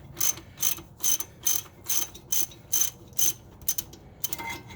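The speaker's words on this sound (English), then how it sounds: "just gonna get the ratchet and go with it" Ratchet backing out brake caliper bolts on an Infiniti JX35 during a front brake job: about a dozen evenly spaced, crisp pawl clicks, close and fairly quiet, with no talk.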